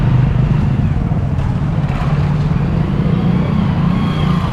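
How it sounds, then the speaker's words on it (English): Early morning street traffic in a backstreet of Jodhpur, India, rumbles steadily with a low, continuous drone of nearby engines and passing vehicles, loud and without talk. "Early morning traffic in Jodhpur."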